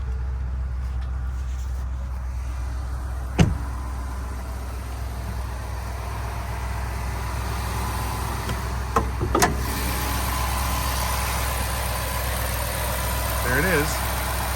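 A 2026 Ford F-250 Lariat Tremor's 7.5 liter V8 idles steadily with the hood up, a low continuous rumble with a couple of brief clicks and a voice speaking faintly over it.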